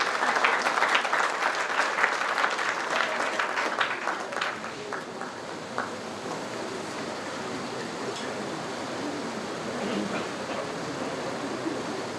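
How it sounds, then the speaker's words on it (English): Audience applause at a Silver Jubilee celebration, loud clapping that fades gradually to a lighter, scattered patter over several seconds. "So a big round of applause for Gitanjali."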